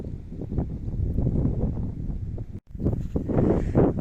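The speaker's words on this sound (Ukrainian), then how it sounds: "Вітер сильний, холодний." Strong, cold wind buffets the microphone in steady broadband gusts outdoors, with a brief dropout partway through before the blustery roar resumes.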